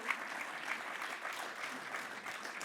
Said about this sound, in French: Merci d'applaudir le GAP Hautes-Alpes athlétisme.